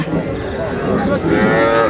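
Cattle moo loudly and close by at the Mataji cattle market in Naogaon, drawn-out lowing calls over a busy market din with faint voices in the background.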